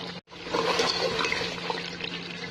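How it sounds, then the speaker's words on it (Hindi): Gravy poured into a cooking pot for kofta curry, a continuous wet, sloshing stream that starts abruptly after a brief gap and keeps flowing close up, with no voices. "तो फिर मैं इसमें जितनी मुझे ग्रेवी रखी होगी वो डाल के"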